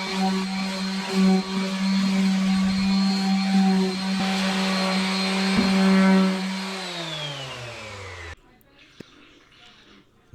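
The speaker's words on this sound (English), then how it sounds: "I took a palm sander with 400 grit sandpaper and just cleaned them off real quick." An electric palm sander fitted with 400 grit sandpaper works over garage cabinets, its steady whining hum running for several seconds before winding down and stopping, followed by quiet.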